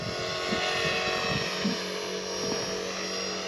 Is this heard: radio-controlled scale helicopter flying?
yes